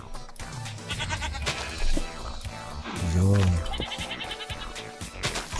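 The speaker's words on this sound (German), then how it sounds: "Ziege." A goat in the video game Minecraft lets out a wavering, nasal bleat partway through, surrounded by game sounds and someone briefly talking.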